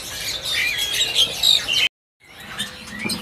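Jalak reo-reo birds caged at the Pramuka bird market give loud, close squawks and chirps, their calls breaking off briefly before starting again.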